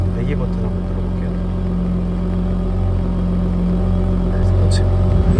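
A Ford Raptor pickup truck's sport exhaust idles with a deep, steady rumble close by and a low, even throb, growing slightly fuller near the end.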